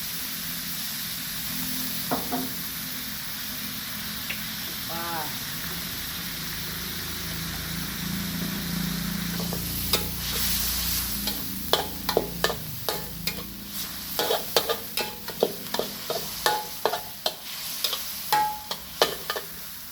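Stir-frying in a pan with sugar and sauce, a sustained sizzle with scattered scrapes that builds into a rhythmic series of loud spatula clacks and stirring strokes, with no talking.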